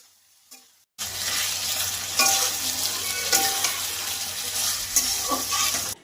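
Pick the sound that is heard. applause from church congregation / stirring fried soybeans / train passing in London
stirring fried soybeans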